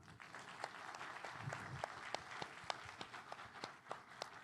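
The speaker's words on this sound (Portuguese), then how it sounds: "E aí eu queria uma salva de palmas para essa equipe" Audience applause for a team at a tech and business event, a steady wash of many hands clapping at moderate distance, with a few sharper individual claps standing out through the 4.5 seconds.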